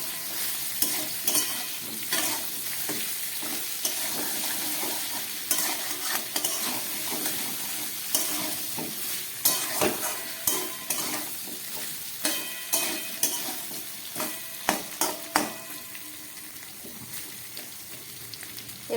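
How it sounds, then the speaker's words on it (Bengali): Eggplant and mixed vegetables fry in a pan for shukto, a traditional Bengali dish, with a soft continuous sizzle broken by repeated sharp scrapes and knocks of stirring. "বেগুনটা দেওয়ার পর আবার একটু ভেজে নিই।"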